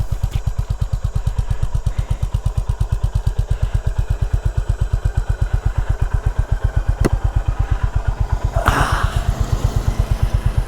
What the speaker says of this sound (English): there is the bike doing amazingly well, as is expected